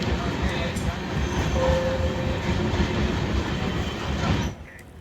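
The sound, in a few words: train passing on railway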